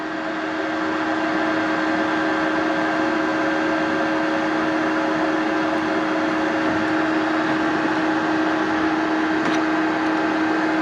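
A cheap Amazon MIG welder idling after being switched on for the first time, a steady close hum with a constant tonal whine and fan-like hiss, unbroken for the whole stretch with no talking.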